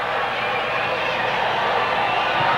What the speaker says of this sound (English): the crowd on their feet cheering Strongbow